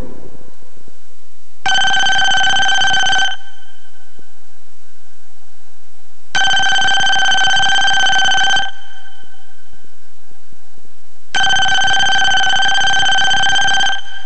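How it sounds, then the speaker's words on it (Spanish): Payphone sounds after a coin is put in and a number dialed: three loud, steady electronic ringing bursts about two seconds each, separated by silent gaps, with no talk over them. "Pone la moneda y marca un número."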